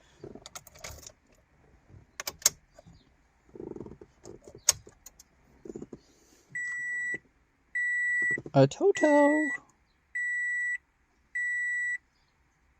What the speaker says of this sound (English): Goodness, that beep is loud.